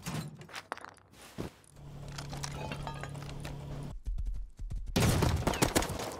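Gunfire in a multiplayer video game. A handful of sharp, separate shots ring out amid in-game movement and horse hooves, then a louder burst of noisy shooting near the end.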